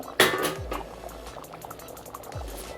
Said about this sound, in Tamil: நல்லா கொதிச்சிருச்சு